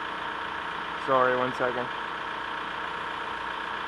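A car engine idles steadily during an EGR valve check, a constant low hum that runs throughout while someone speaks briefly over it.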